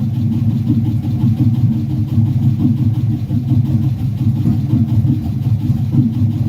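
A truck engine idles steadily with a rough, slightly clattering ticking, close and constant throughout, and no voices.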